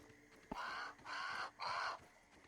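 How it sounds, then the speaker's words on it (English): Three harsh, cawing bird calls ring out evenly spaced in the backyard survival video game Grounded, fairly quiet over a low ambient hum with no talking. "I really hate hearing that bird."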